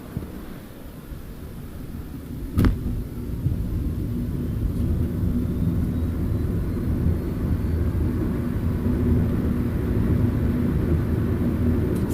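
Nissan Leaf electric car moving on Rio de Janeiro streets: a steady low road rumble with a faint thin whine running through it, one brief bump near the start, and no engine note or talk.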